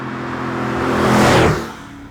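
A Lamborghini Urraco's engine burbles and swells as the car drives a country road at higher speed, the drone rising to a peak and then easing away, steady with no talk.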